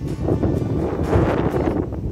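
Strong wind outdoors in Ireland buffets the microphone in a steady, roaring rumble with gusty low-end thumps, loud and continuous throughout.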